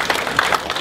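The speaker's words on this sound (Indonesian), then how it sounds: "Bagi tepukan kepada orang-orang yang menyokong kita" A dense burst of applause from an audience at a gathering welcoming new party members, many hands clapping steadily through the short moment.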